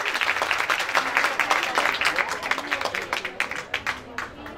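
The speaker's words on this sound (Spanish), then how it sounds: "Aplausos para Axel Orellana." An audience at an outdoor singing stage event in Quezaltepeque applauds a performer, steady crowd clapping with cheers and voices throughout, tapering slightly toward the end.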